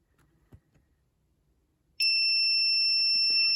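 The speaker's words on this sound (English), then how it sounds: "So we hear that relay click, we get a constant buzz, which is quite loud." A DIY runaway alarm clock going off: after quiet background noise, a sudden loud, steady electronic buzz starts and holds at a constant pitch to the end, with a faint click near its onset.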